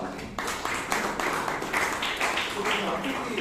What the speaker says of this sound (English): So give him round of applause.